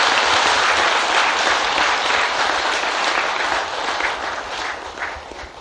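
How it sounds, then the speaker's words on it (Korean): Sustained audience applause at a Korean Buddhist temple Dharma lecture, loud and dense, holding steady for several seconds and easing slightly toward the end, with no talk over it. "큰 박수로서 한번 은혜 보답하는 게 좋을 것 같습니다"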